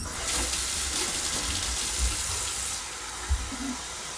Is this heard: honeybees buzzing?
no